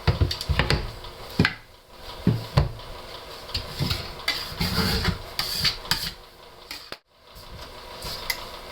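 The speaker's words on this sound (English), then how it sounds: "and just scrape the edge of your mold" A scraper worked along the edge of a set plaster tile mold, grinding off the high edge in repeated close, rasping strokes with brief pauses and one short silence near the end.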